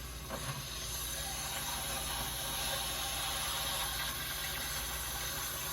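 A water heater tank fills with water, giving a steady, even hiss and rush of flow that holds constant for several seconds with no other sounds.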